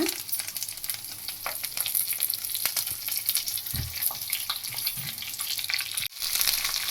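Curry leaves, coriander and mint sizzle steadily in hot oil, a soft continuous crackle with occasional stirring scrapes, heard close with no talking.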